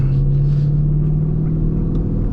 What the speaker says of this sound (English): All right, let's give it a second gear pull